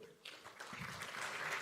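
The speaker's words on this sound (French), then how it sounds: "Vous pouvez applaudir David." An audience applauds at a startup pitch competition during a tech festival as the referee is called up on stage. The clapping starts abruptly, then builds into dense, steady crowd applause that holds at a moderate level.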